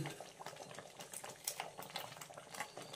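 Masala gravy with onion and cashew boiling in a pan, a quiet close bubbling and popping that patters continuously throughout.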